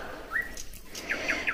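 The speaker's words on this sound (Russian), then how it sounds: "а это птичка какая-то. Видать, свалился." A small bird fallen from its nest near a bee shed gives a rising chirp, then a quick run of three high, thin peeps, close and fairly faint over soft background noise.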